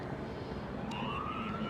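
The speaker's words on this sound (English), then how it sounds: "You can hear the sirens there." A distant police siren wails faintly during night riots in Los Angeles near LA Live, its pitch sweeping upward over a steady wash of crowd and street noise.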